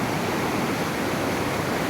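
A fast, swollen stream of water rushes through grass in a steady, loud, broadband roar, with no pauses over the whole stretch.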